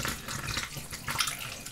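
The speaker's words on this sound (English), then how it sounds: "pour our apple juice with the sugar solution in it into the demijhon" Apple juice with sugar solution being poured into a demijohn for cider, a short gurgling, glugging stream of liquid close by, fairly quiet and with no talk.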